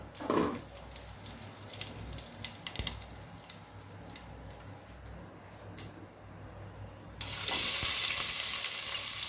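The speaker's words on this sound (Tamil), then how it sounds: "இப்போ தாளித்து எப்படி செய்கிறதுங்கிற காமிக்கிறேன் பட்டைக்கிராம் போட்டுக்கலாம்" Cinnamon tempers in a ladle of hot oil for chicken biryani, heard as a soft steady sizzle with a few sharp clicks. Near the end a much louder hiss of frying or running water surges in and holds.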